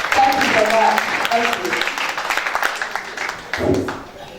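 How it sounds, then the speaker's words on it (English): Audience applause at an investiture and executive committee induction ceremony for quantity surveyors in Nigeria, a steady crowd clapping that fades slightly toward the end, with talk and cheers mixed in. "So please give her another round of applause"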